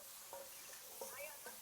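Quiche pans sizzle and fry in a steady, faint hiss, with a few soft clinks and stirring scrapes on top.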